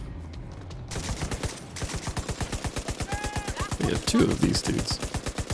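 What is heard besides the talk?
gunfire from enemies in video game The Division 2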